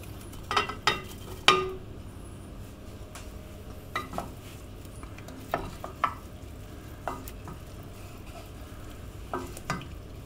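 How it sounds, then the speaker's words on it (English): A spoon stirs cheese sauce in a pan, with soft scraping under a low simmer and a scattering of sharper clinks against the pan spaced through the stretch, close and fairly quiet. "The next stage is to add half the cheese. Give that a stir."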